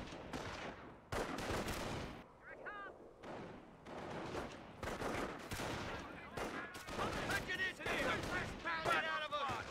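Gunfire crackles through a Company of Heroes battle, dense bursts and single shots repeating across the stretch with near-constant loudness, while voices talk over the fighting.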